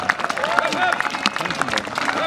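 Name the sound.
audience applause and cheering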